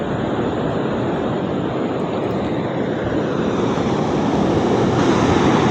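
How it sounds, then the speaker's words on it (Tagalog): Sea waves surge and crash steadily near the shore of a fishing harbor, a loud continuous roaring wash with wind buffeting the microphone throughout and no pauses. "biglang lumalaki yung mga alon dito ngayon"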